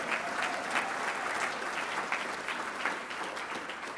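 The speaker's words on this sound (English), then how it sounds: "Yes, applaud, do it." Steady, dense applause from a large audience fills a convention hall at a closing plenary session, a sustained even wash of many hands clapping at once with no one speaking over it.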